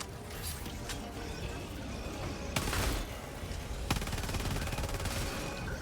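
Gunfire in Helldivers: dense, rapid automatic bursts crackle continuously over a noisy battlefield background, with a couple of sharper louder shots standing out.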